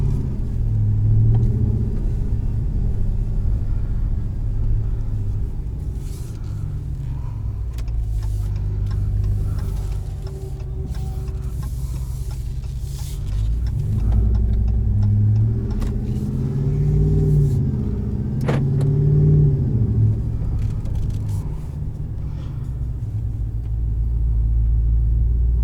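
A 2020 RAM 1500 Rebel pickup with S&B intake and Carven exhaust rumbles at idle, rising and falling in a few revs over a long stretch, close and fairly loud with no talking.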